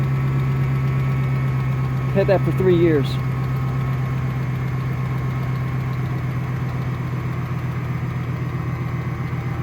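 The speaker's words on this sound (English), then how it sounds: "Hear that little clicking? There's a little bit of clicking." A steadily idling car engine with 270,000 miles, fresh from an oil change, hums close by with a faint, continuous light clicking in its rhythm while someone speaks briefly over it.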